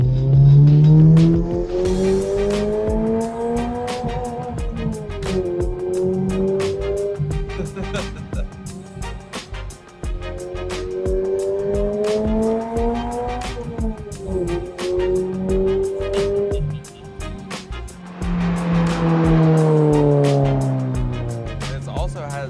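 A Subaru BRZ pulls hard at full throttle in second gear from low speed, its engine climbing through repeated rising sweeps with shifts and dips, loud and close from inside the car, with a voice talking over it.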